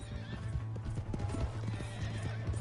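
Horse in the Red Dead Redemption 2 video game, hooves clip-clopping in a steady rhythm under low rumbling game sound, with neighing mixed in.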